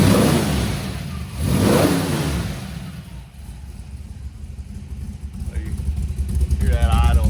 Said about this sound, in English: We'll give it a couple revs here.